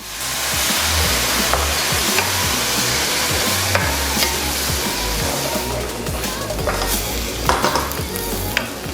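Chopped kimchi and cooked pork are stir-fried in a pan, a loud continuous sizzle with repeated scraping and stirring strokes throughout, and a faint voice briefly under it.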